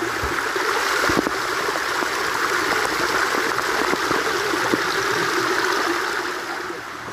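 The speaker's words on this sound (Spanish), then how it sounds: "Pasamos desde el río Chuco, miren, aquí va el agua que ya es limpia." Steady, broadband rush of the Chuco river flowing near Santa Ana, El Salvador, close and continuous for the whole stretch, with no voices over it.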